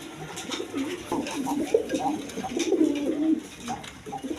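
Big-size breeding pigeons at a pigeon farm coo repeatedly in soft, throaty rolling calls close by, several birds overlapping amid faint background noise.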